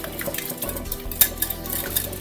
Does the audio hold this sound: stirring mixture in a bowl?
yes